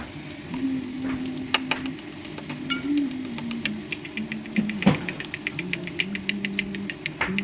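Quick clicking taps of a whisk beating eggs in a bowl, rapid and irregular, over a low background hum and faint sizzle.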